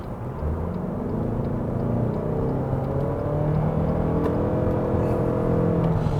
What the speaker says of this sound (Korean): 차징 모드로 하니까 이 계기판 보이시겠지만은 엔진이 상당히 많이 개입을 하고 있어요.